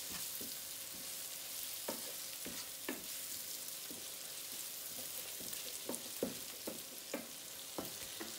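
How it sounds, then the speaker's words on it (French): Sweet potato and tuna filling stirred in a pan, soft sizzling underneath with a series of sharp scraping and tapping strokes from the utensil, fairly quiet and without speech. "Il faut remuer un peu."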